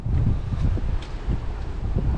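Strong wind buffets the microphone in a continuous low rumble, gusting unevenly with a faint wash of choppy sea in the background, on a sunny coast in the Patara-Kaş area.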